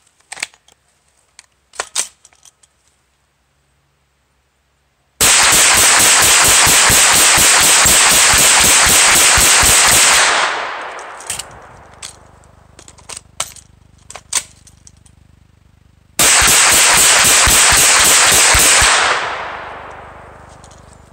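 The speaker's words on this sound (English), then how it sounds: "So let's go ahead and do a mag dump with this" A Hi-Point carbine empties a 20-round Redball magazine in two loud, rapid strings of sharp shots, each several seconds long, with scattered metallic clinks and handling noises before and between them.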